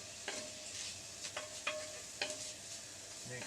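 Cajun cod and rice stirred in a hot pan, with a soft steady sizzle and a few sharp scrapes and clinks of the utensil spaced through it, close up and without speech.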